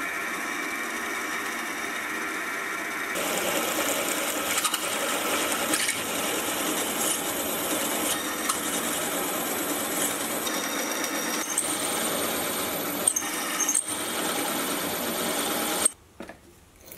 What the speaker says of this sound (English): I'll then get an M12 hole drilled and tapped,